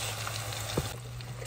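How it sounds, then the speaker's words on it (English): Shrimp frying in hot oil in a home kitchen gives a steady, close sizzling hiss, with one brief sharper pop partway through and a low hum underneath. "Throw it into your oil and let it cook."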